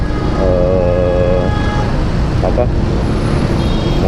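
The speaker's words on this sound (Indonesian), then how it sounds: "Tuh, udah banyak mobil-mobil gede guys" Heavy road traffic with big trucks rumbling past on a wide, congested road, a steady loud roar throughout, with a short horn-like tone near the start and a brief burst later.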